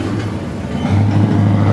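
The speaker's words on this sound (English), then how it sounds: "As you can hear the engine in the background" A car engine at a race track rumbles steadily and loudly nearby, its low drone rising slightly partway through.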